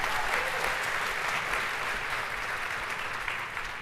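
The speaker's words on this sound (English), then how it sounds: "There you go, let them clap." An audience at a Disney parks and products presentation applauds with dense, steady clapping that fills the room and fades slightly at the end, with no speech over it.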